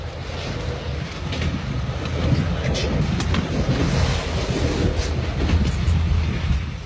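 A train rolls along the rails with a steady rumbling roar, faint rhythmic clatter and wind noise, heard from inside.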